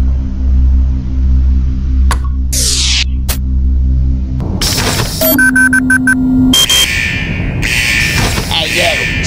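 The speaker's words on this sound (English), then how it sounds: "Looks like he set off some sort of alarm in the vault." Alarm in a stickman video game vault: a cluttered burst of electronic beeps and buzzing tones that kicks in midway, loud and chaotic over game sound effects, following swooshing effects earlier.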